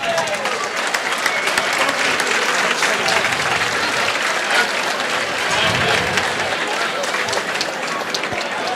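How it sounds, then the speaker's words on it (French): Crowd at a dinner event giving a steady round of applause for award recipients, dense, even clapping held at a constant level throughout with no pauses. "Une bonne main d'applaudissements."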